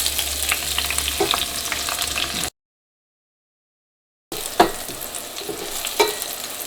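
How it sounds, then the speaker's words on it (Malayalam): Onion, ginger and garlic hit hot oil in a pan for a restaurant-style mixed vegetable curry, giving a steady close sizzle with stirring scrapes. A short silent gap splits the sizzle, and no one talks. "ഇതിലേക്ക് സവോളയും ഇഞ്ചിയും വെളുത്തുള്ളിയും ചേർക്കാം."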